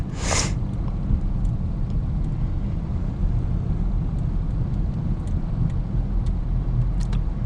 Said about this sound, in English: Road noise at normal road speeds is not bad, actually.